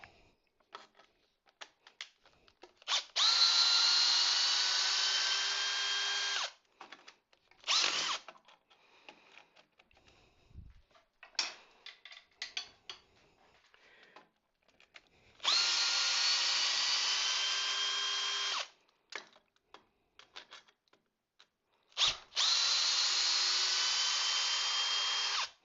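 Power drill backing screws out of a woodturning lathe faceplate: three sustained high whirring runs of a few seconds each, separated by short bursts and quiet handling clicks, close and fairly loud.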